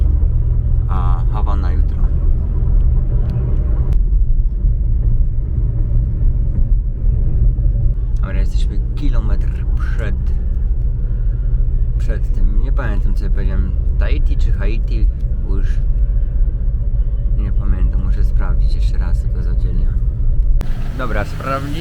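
A car driving around wealthy Miami neighborhoods, its steady low engine and road rumble continuous and close throughout, with people talking over it intermittently.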